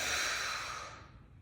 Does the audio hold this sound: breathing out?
yes